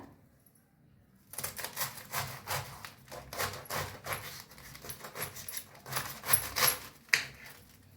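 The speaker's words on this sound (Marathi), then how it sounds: "चला साईडला ठेवून देऊया आपण कोबीच कापून घेऊया पहिला" Cabbage being sliced with a knife for a pea and cabbage dish, a quick series of close, crisp chopping strokes with no talk.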